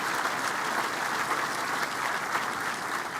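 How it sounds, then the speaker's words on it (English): Crowd at the University of South Florida on-campus stadium groundbreaking applauds a conference commissioner, an even, moderately distant wash of clapping that stays steady throughout. "Please give him a round of applause for being here with us today"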